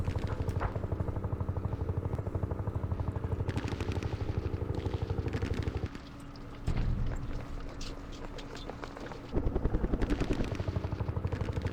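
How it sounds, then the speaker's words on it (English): Helicopter gunships in the Vietnam war game Campaign Series Vietnam, a loud rhythmic rotor chop that drops out briefly, then returns along with distant booms. "Some gunships."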